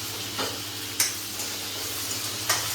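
A pan sizzles softly after eggs are fried in it, a low steady frying hiss with a few sharp spatula taps and scrapes at irregular moments.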